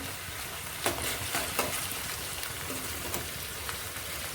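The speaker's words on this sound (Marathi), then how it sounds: "इकडे कांदा फ्राय होतो आहे कांदा तळायला टाकला इथे" Sliced onions deep frying in oil for biryani, giving a continuous fine crackling sizzle close by, with a few faint knocks of a utensil over the hiss.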